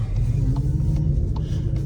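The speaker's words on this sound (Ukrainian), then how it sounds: "Оцей фірмовий вихлоп РС, він тут присутній." A deep, steady exhaust rumble from a Skoda Kodiaq RS in sport mode, loud and continuous, with faint ticks and clicks over it.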